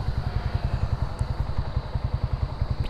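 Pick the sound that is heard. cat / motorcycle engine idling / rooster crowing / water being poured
motorcycle engine idling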